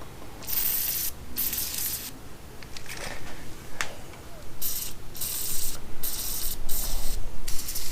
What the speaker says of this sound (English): I'm going to shoot this full of some penetrating oil.